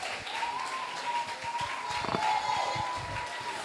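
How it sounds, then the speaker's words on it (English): Applause from parents and guests at a primary school graduation ceremony, a steady wash of clapping from a crowd, fairly distant and moderate in level, with a faint tone running beneath it. "Let's give them a round of applause."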